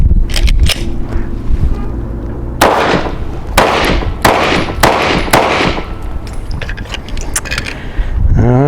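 Gunfire from a Mossberg firearm at an outdoor range: a quick cluster of early shots, then five sharp, loud reports spaced about half a second apart, followed by fainter clicks and handling noise.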